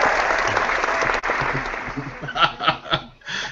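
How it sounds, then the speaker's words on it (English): Studio audience applause at a talk show taping, steady clapping at close range that fades toward the end, with a few sharper bursts of laughter and chuckles breaking through. "let's applaud Eddie's lighting, would we?"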